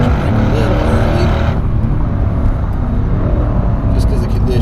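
A 2019 Mercedes-AMG C63S laps a racetrack on a wet day, its engine roaring loud and close throughout, dropping in pitch into a corner. Someone talks over it.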